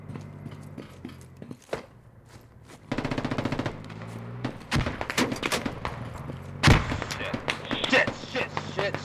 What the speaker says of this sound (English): I keep getting sniped.